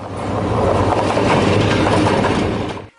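A passing train rumbles steadily and loudly for the whole span, its broad wagon noise and faint rail clatter holding an even level before dropping away at the very end. No voices are heard.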